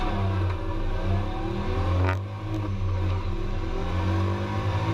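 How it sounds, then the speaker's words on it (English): Pro3 race cars roar close by on a track, with a continuous loud engine drone whose pitch sweeps and shifts as several cars pass in quick succession, no talking. "And just like that, 5 Pro3 cars fly by."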